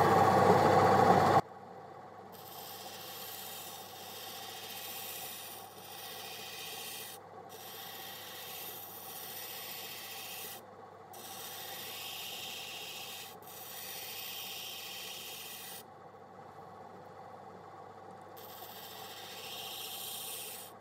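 Grinding a bevel on an opal: a steady rubbing, sanding scrape in repeated strokes of a few seconds each, separated by short pauses, over a faint motor hum, after a louder opening burst.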